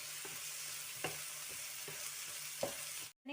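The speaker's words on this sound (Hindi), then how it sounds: "अब चने की दाल को हम अच्छे से भून लेंगे।" Dry chana dal roasts in a pan with a soft, continuous sizzle, and a spoon scrapes and taps against the pan every half second or so. Near the end a brief silence is followed by a clatter.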